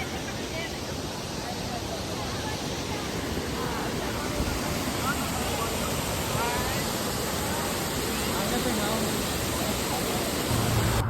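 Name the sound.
Don waterfall at Saputara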